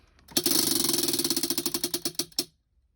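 A prize wheel spins with a fast ratcheting clatter of the pointer flicking over its pegs, close and crisp, slowing into more widely spaced clicks before stopping after about two seconds.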